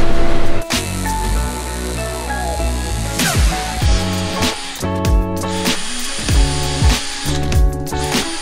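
A power drill whines and bogs in repeated bursts while boring out a welded part on a car project, loud and close, with harsh grinding bites and short pauses between passes.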